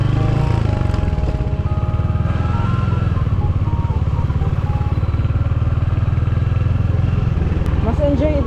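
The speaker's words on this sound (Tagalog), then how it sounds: "Maganda pa ng sound ng exhaust." Royal Enfield Hunter motorcycle exhaust on a test ride, a close, steady, low pulsing thump at a constant pace that eases slightly near the end.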